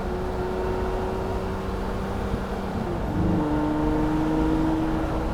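Lamborghini Murcielago Roadster V12 engine rumbling steadily nearby, with a shift in tone about three seconds in as it drops a gear and the pitch rises, carried on constant low road and wind noise.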